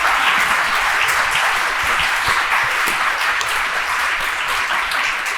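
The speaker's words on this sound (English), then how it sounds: "I would like to give a huge round of applause to our esteemed panelists" Loud, continuous audience applause for panelists at a conference event, a dense steady roar of many hands clapping throughout.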